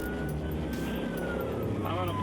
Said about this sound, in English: makes another U-turn and moves to intercept her, sirens on and lights flashing